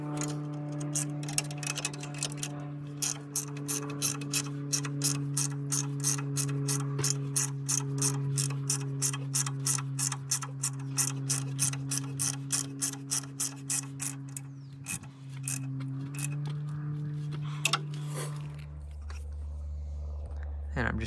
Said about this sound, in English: I'm going to finish tightening these bolts up.